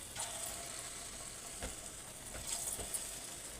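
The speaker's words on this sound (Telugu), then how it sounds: "నూనె ఉంది కదా, ఇందులో ఒక్కొక్కటిగా ఇలా వేసుకుందాం." Chickpea flour batter dropped piece by piece into hot oil gives a faint, steady sizzle, with a few soft clinks and taps from the pan heard over the quiet frying.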